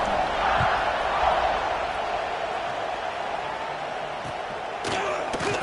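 American football kickoff in a stadium: a steady buzzing crowd roar carries throughout, then a sharp thump of the ball being kicked near the end, set against the crowd noise.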